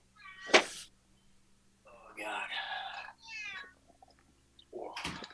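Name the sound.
cat meowing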